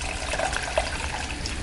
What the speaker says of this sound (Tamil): இந்த டைமில் நம்ம ஆல்ரெடி கரைச்சி வச்சுருக்கிற புளி தண்ணியை ஊற்றிடலாம்.